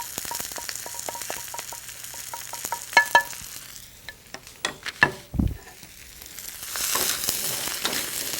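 Zucchinis tossed with coriander powder sizzle steadily in a hot pan, with a string of clicks and clatters from stirring and a louder burst of frying toward the end.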